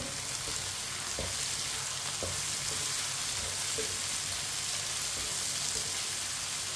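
Green chillies being stirred into a potato and egg dish in a hot pan: a steady, close sizzle of frying runs throughout, broken by a few soft scraping strokes of the spoon.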